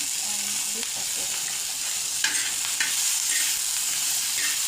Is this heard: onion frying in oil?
yes